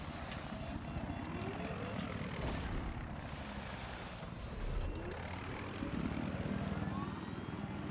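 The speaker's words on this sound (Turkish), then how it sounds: "Helikopterimi almaya çalışacak bir de ya." Scout helicopter in Battlefield 4 on the Nansha Strike map, a faint steady rotor and turbine drone running throughout, with scattered game noise around it.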